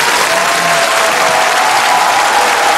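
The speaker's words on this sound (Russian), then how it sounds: "Им аплодисменты." A studio audience at a Russian TV program applauds guests, a steady, dense wash of many hands clapping that stays loud and even throughout, with no voices over it.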